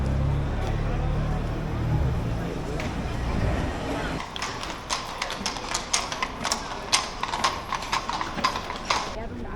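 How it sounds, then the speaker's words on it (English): Horse-drawn carts clip-clop along a Vienna street, crisp hoof strikes ringing in an uneven rhythm after a stretch of low traffic rumble, with street ambience. "Seen a couple of these horse and carts going around."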